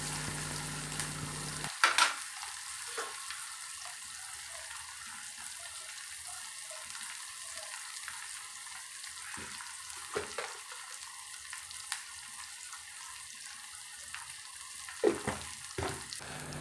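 Onions salted and frying in a pan give a quiet, steady sizzle with a few louder clattering stirs near the start and end, otherwise calm and unbroken.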